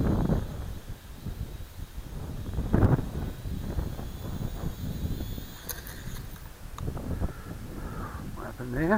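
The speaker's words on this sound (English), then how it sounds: "A bit windy, but" Wind blows outdoors on a windy day during a Syma X5C quadcopter flight, buffeting the microphone in loud, uneven gusts that rumble throughout, with a faint buzzing whine and a voice briefly speaking.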